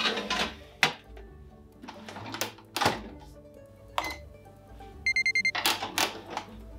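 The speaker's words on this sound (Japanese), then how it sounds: "予熱完了のアラームが鳴ったら" A short series of rapid electronic beeps from an oven signalling preheat completion at 300 degrees sounds amid clatters and thumps of kitchen handling.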